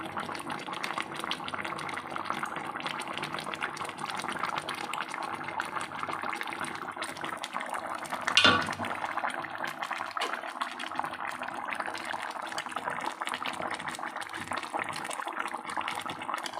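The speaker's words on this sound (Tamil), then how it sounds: "இப்போ இதோடு சேர்த்து நான் இந்த மீன் வறுத்த மீதி இருந்த எண்ணெயையும் இதில் நான் ஊற்றிக்கிறேன்" Leftover coconut oil from frying fish poured into a pot of Chennai-style fish curry, a steady liquid pouring and trickling sound that runs throughout, fairly even in level with one brief louder splash midway.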